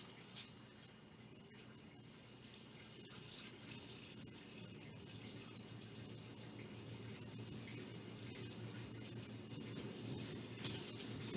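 Liquid poured over sugar in a container while making a homemade cordial, a steady soft splashing and trickling stream running throughout, fairly quiet and without talk.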